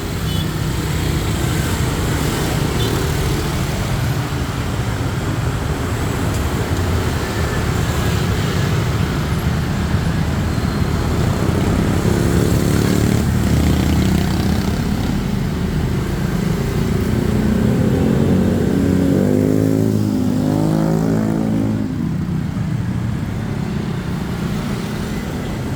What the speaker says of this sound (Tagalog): Grabe ka traffic.